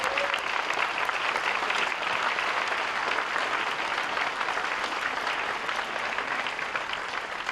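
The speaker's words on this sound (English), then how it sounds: "give them a big hand of applause for all the support that they've done" A graduation audience at a high school ceremony applauds steadily for parents and supporters, a dense, continuous wash of clapping from a large crowd that holds level throughout with no voices standing out.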